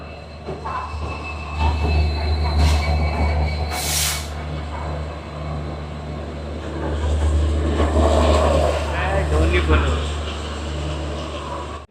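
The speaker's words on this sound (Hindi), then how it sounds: "तो 6:35 पर हमारी ट्रेन ने अपना डिपार्चर लिया है प्लेटफॉर्म नंबर 2 से।" Kolkata Sairang Express (13125) rolls out of platform 2 on the NFR route, a heavy continuous rumble of wheels and carriages with rising clatter and a brief high squeal, while a voice talks over it.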